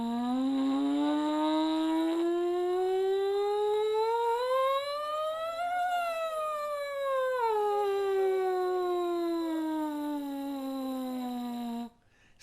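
A horn player's siren glissando warm-up: one sustained, smooth tone slides steadily upward, peaks, then glides back down over about twelve seconds, clear and unaccompanied.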